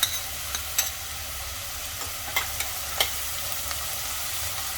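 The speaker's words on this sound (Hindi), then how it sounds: "प्याज को थोड़ा सा चला लेंगे, तो थोड़ा सा कलर चेंज हो जाए" Onions and green chillies fry over high flame in a pan, a continuous sizzle broken by scattered scraping clicks of stirring, close by and with no talking.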